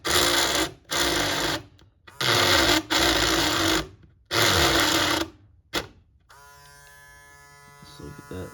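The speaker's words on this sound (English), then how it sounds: "So we're gonna get the Dremel out" A cheap Dremel rotary tool, fresh from unboxing, whines loudly in several bursts of about a second each with short gaps between them, then stops and leaves a faint electrical hum.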